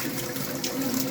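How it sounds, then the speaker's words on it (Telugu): Water is poured out of a container onto a plant, a brief, close splashing gush lasting about a second. "నీళ్ళు మొత్తం వంపేసుకోవాలి."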